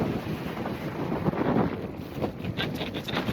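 Strong wind buffets the microphone on the Konkan coast, a gusty, rumbling roar that swells and eases over a few seconds, with a faint sea wash beneath.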